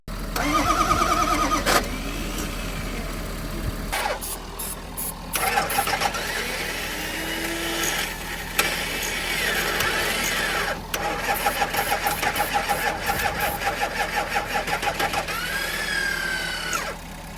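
A Ford 6.0 Powerstroke diesel engine, wrecked and being rebuilt, cranks in several bursts before catching and settling into a loud, steady close-up idle.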